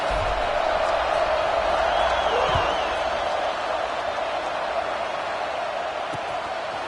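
Steady roar of a stadium crowd in a football video game, a broad continuous wash of cheering heard at moderate level.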